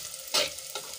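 Onions sautéing in a pan for a green chickpea curry, a close sizzle with two quick spoon stirs that flare briefly louder.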